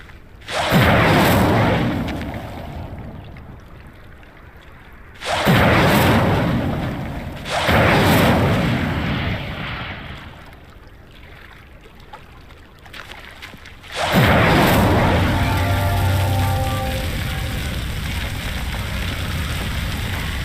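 Fire spell lighting pyres in the Hogwarts Legacy video game: four loud whooshing bursts of flame, each flaring up sharply and then fading, with the last one lingering into a sustained crackling burn.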